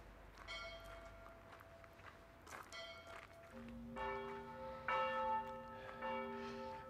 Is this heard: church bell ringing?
yes